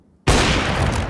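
A flashbang in a tactical shooter goes off after a brief silence, a sudden loud bang followed by a sustained harsh ringing hiss that stays loud to the end.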